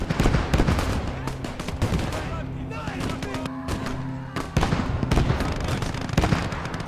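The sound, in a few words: grenadiers attacking with gunfire in Gates of Hell: Ostfront video game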